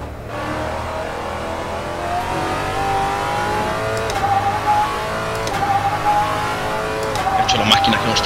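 A GT race car in a racing video game set at Donington Park slides off into the gravel, its engine droning steadily with a scraping, crunching wash underneath while a voice talks over it.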